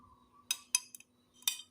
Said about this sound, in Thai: เราคนให้ละเอียดเลยครับ หรือว่าคนให้เข้า ให้เข้ากันนะครับ แพนเค้กกับน้ำแดงนะครับ